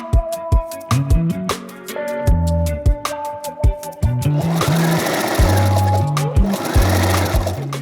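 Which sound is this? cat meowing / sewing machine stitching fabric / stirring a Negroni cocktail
sewing machine stitching fabric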